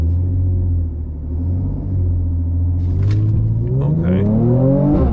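A stock 2019 Mercedes C43 AMG on a 0-60 run in 100-degree heat gives a deep, steady engine rumble heard close from inside, then its pitch climbs sharply as the car accelerates hard.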